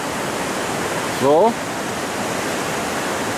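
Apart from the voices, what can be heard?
Le Doubs river flowing between Switzerland and France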